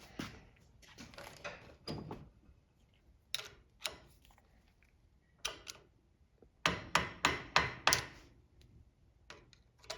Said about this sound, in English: I gotta get my flathead screwdriver and a hammer. We'll just tap this